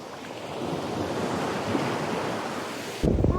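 Sea waves wash steadily onto the shore at Agno Beach, a continuous rushing surf mixed with wind buffeting the microphone, ending in a sudden close bump.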